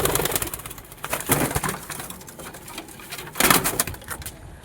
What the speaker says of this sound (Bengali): আর হচ্ছে এই একটা পায়রা। দুটোকে উড়িয়ে দিলাম।